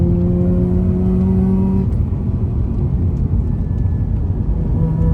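A tuned, bridgeported Mazda RX-8 rotary engine holds a high-pitched whine at redline, then the tone drops away into steady road and wind roar on wet roads.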